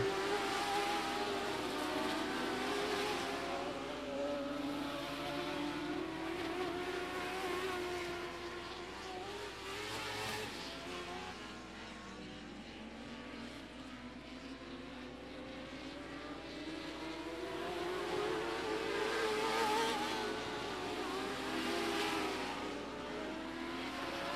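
Dwarf race cars lapping the I-37 Speedway oval during a championship-night race, a continuous roar of several engines that swells and fades as the pack passes, heard from a distance without speech.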